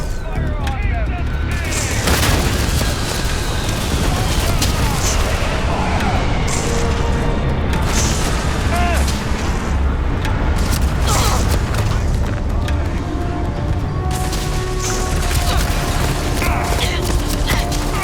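Ship weapons fire continuously in a Starfield space battle, a dense barrage of loud booms and crashing blasts layered over constant roaring, with voices talking beneath.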